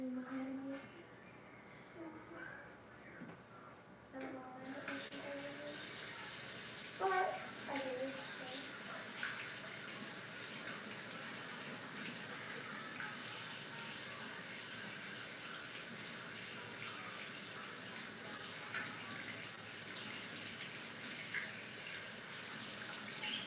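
Tap water running steadily into a sink while a small container is rinsed out, a continuous hiss starting after a few quiet seconds with faint clinks and a voice at first.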